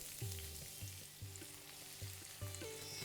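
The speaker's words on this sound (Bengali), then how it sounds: "তেলটা একটু গরম হয়ে গেলে আমি এখানে দিয়ে দেবো পেঁয়াজ" Thin-sliced onions frying in mustard oil give a steady, soft sizzle with faint stirring knocks, close by and fairly quiet.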